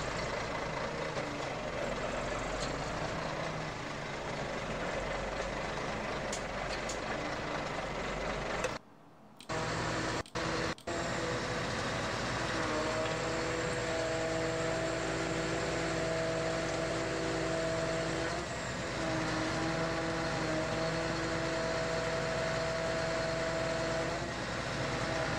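A timber truck loading logs, its engine droning steadily and loudly at close range, with a brief cut and a couple of clunks, then a higher mechanical whine layered over the hum.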